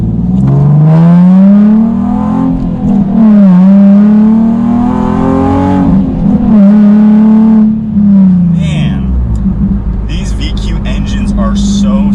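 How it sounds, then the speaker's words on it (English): A Nissan 370Z Nismo with a muffler delete accelerates hard, its loud raw engine note climbing and shifting through gears, then settling to a steady drone as it eases off. "I think this has a muffler delete, so it's definitely got some noise to it."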